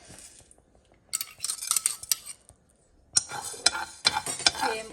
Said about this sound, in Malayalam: ജസ്റ്റ് ഇത്ര ഒരു സ്പൂണ് റൈസും കൂടി നമ്മൾ റോസ്റ്റ് ചെയ്തെടുക്കുക.